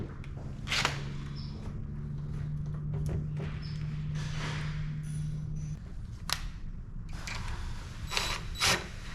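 Screws are driven in during a household repair, with close mechanical whirring and clicking in short bursts and sharper knocks between them.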